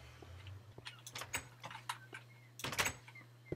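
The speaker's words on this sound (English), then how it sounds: "New door sound, very confusing." A door in Minecraft, heard as a series of short clicky wooden clacks and taps, with a louder double clatter near the end over a low steady background hum.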